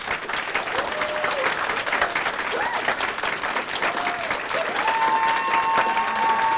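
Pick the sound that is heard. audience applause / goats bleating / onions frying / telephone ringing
audience applause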